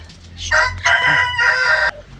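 A rooster crows loudly and close, a long harmonic cock-a-doodle-doo in several rising and sustained bursts.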